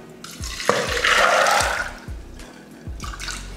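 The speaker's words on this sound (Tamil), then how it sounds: "நல்லா முங்குற அளவுக்கு தண்ணி ஊற்றியிருக்கேன்." Water pours from a tap into a cooker holding about 200 grams of soaked black chickpeas, a steady close splashing rush that swells and then eases, with no talk.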